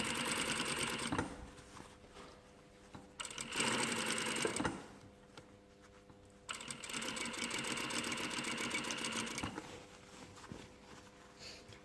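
A sewing machine runs in steady stitching bursts while sewing a 1 mm rib seam on a garment, with brief pauses between runs, fairly close and alone, without speech.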